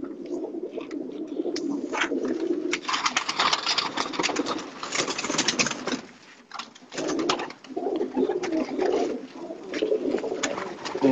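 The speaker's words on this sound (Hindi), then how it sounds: "मुटेरा कबूतर चेक करो जी" Breeder pigeons cooing steadily and loudly at close range, layered coos overlapping throughout with a brief lull midway and no talk.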